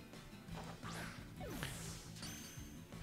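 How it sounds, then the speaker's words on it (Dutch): In Pokémon Scarlet & Violet, a Quick Ball is thrown at a shiny Pokémon, with whooshing swishes, sweeping tones and a crash-like hit over steady game music, moderately loud. "ik ga gelijk die quickball erop gooien"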